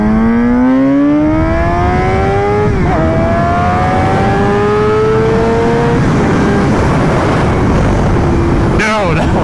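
A Suzuki GSX-R sport motorcycle without a quick shifter accelerates hard on a top-speed run, its engine whine rising steeply through two gear changes with sharp drops in pitch, then a final abrupt cut, loud and close.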